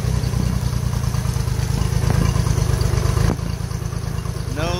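A Mercury 40hp four-stroke outboard engine runs steadily at idle after a head gasket repair, a continuous low throbbing that stays loud and close through the whole stretch with no talking.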